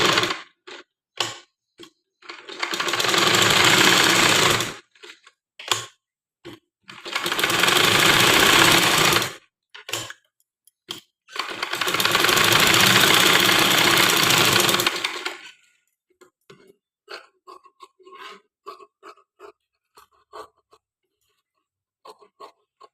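A sewing machine stitching a small girl's frock runs in three sustained bursts of several seconds each, separated by short clicks and handling taps, then only scattered light ticks.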